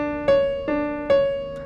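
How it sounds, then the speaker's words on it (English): A major seventh interval is played as three struck notes, each held briefly and fading, close and clear with no talking. "The 7th note of a major scale is a major 7th interval,"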